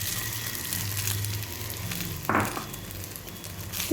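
Grated coconut sizzles steadily in about a tablespoon of hot ghee, a continuous broadband frying hiss with a brief louder stir-like burst near the middle, no voices.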